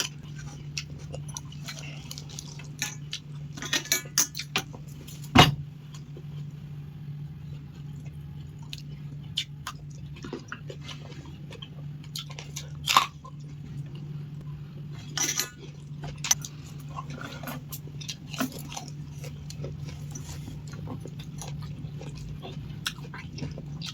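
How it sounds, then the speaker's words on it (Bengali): Fruit being eaten after a meal, with close, quiet chewing and occasional sharper bites and clicks over a low steady hum, no talk. "বন্ধুরা ভাত খাওয়ার পর ফল খেতে হয়, তাই ফল খেলাম।"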